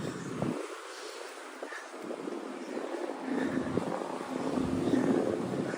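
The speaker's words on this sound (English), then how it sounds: "Got a lot of helicopters hovering around here, it sounds like." A low, steady rotor drone from helicopters hovering overhead in New York City, muffled by wind noise on the microphone, growing slightly louder toward the end.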